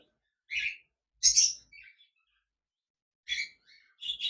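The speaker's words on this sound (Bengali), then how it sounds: "এখানে দেখতে পাচ্ছেন একজোড়া" A cockatiel chirps in short, bright bursts with pauses between them, about five calls spread irregularly, fairly close and clear against silence.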